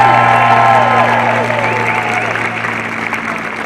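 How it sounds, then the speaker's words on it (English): A crowd applauds seniors at a high school senior awards night, a loud sustained wash of clapping from a large audience with a few cheers and a voice rising over it early on, slowly tapering. "let's give one round of applause to our seniors."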